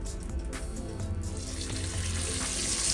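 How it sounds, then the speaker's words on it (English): Rabbit pieces sear in olive oil with a little butter in a hot pan, making a steady, close sizzle that swells slightly louder and brighter toward the end. "we just want to get a nice sear on both sides of this rabbit"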